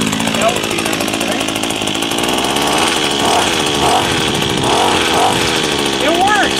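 A Badger WB26BCI 26cc brush cutter engine runs close by with a high, buzzy two-stroke drone that surges as it is revved over several seconds, with a voice speaking over it.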